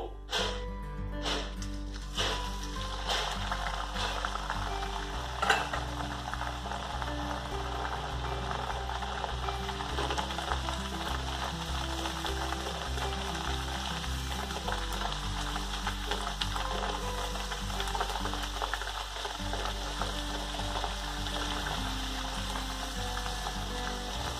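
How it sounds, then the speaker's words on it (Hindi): Chana dal puris fry in hot oil in a pan, giving a continuous crackling sizzle close by over a low steady hum, with no talking. "तेल यहाँ पे अच्छे से गर्म हो गया है अब इसमें हम पूड़ी डालेंगे"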